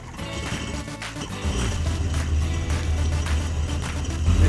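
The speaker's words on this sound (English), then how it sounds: "We've got the hose connected, and we can see we've got water starting to flow through the engine." A jet ski engine runs on a flush hose during a home service, a steady low mechanical hum with rushing water mixed in, growing slightly louder over the seconds.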